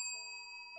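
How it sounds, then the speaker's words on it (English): A small front-desk service bell is struck once, giving a faint ringing tone that decays slowly and is briefly restruck near the end. "It is just a bell that you'd have at the front of desk."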